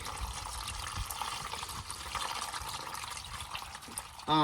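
Engine oil draining from a 2023 Dodge Ram BigHorn during an oil change, a steady trickling, splashing stream of liquid running continuously at moderate distance, with a brief louder clatter at the very end.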